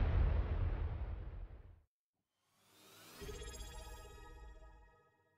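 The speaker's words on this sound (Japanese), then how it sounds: "ニック爆発したけど" A loud explosion in the video game VRChat booms and rumbles for nearly two seconds, cuts to silence, then a second rising burst swells with ringing, crackling debris that fades out.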